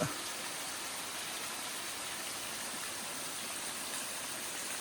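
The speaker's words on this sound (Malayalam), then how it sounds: "ഈ മുകളിൽ നിന്നൊരു ചെറിയ വെള്ളച്ചാട്ടം കണ്ടോ" A small waterfall spilling down a slope in a green hill village of Idukki, Kerala, gives a faint, steady, distant hiss of flowing water, alone and unbroken.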